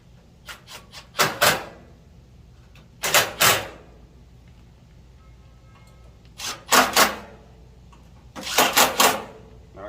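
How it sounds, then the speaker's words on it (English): A power screw gun driving screws back into a heat shield on a Blackstone griddle, heard as four separate pairs of short, sharp whirring bursts with quiet pauses between them. "So, screw gun. Here it is. Tighten these back up now."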